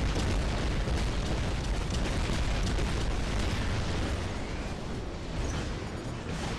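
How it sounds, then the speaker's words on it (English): Explosion in the War Robots video game, a dense continuous roar of blast noise that fills the whole clip without clear separate hits and sits fairly far back, with no talk. "He just got bombed out."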